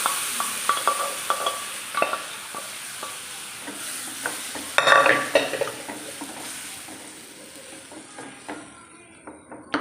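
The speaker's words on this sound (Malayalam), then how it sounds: "നമ്മൾ വേവിച്ച് വെച്ചിരിക്കുന്ന നമ്മുടെ കിഴങ്ങ് നല്ലപോലെ ഒന്ന് ഉടച്ച് നമുക്ക് അതിനകത്തോട്ടൊന്ന് ചേർത്ത് കൊടുക്കാം." Boiled potato, mashed and added to a simmering potato curry, is stirred in a pot with a steady scrape of spoon against metal and soft sizzling, with a few sharp knocks near the middle and no talk.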